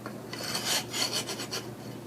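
A file rasps across a hedge cutter blade in several short, scraping strokes with a steady back-and-forth rhythm, close and fairly clear, with no talking.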